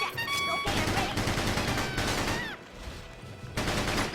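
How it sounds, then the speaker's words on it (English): Tundran troops firing in the Battalion Wars video game, rapid bursts of automatic gunfire and scattered shots in a continuous battle barrage, loud with brief gaps. "Those Tundran bullets sting a little bit"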